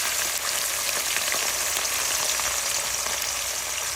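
Chopped onions, lightly salted, fry in a pan with a loud, continuous hiss that holds evenly from start to finish, with no talking.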